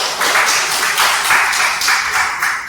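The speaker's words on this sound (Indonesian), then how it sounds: "Tepuk tangan buat anda semuanya" A class of students in an Islamic religious education lesson claps together, a loud, steady stream of rhythmic hand claps filling the room with no talk over it.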